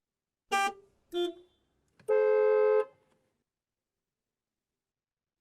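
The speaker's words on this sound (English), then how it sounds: "the sound of traffic from outside" Three horn toots from outside traffic: two short honks followed by a longer, steady blast, fairly close and clear over an otherwise quiet background.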